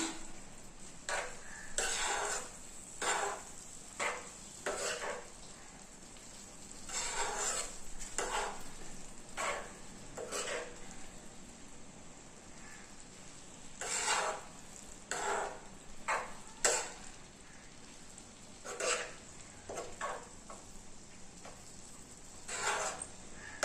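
A spoon stirs pasta through masala in a pan, giving repeated scraping and clinking strokes in irregular bursts over a soft sizzle, close and moderately loud, with no talking.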